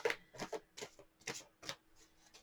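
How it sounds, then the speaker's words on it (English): Tarot cards shuffled by hand, a series of soft irregular riffling and tapping bursts, close and quiet, with short pauses between them. "I'm going to shuffle these a bit"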